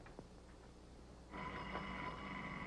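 A telephone bell in a 1940s radio comedy starts ringing partway through and keeps on steadily, a sustained bright metallic ring over a quiet background.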